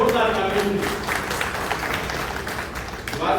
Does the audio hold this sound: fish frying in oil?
no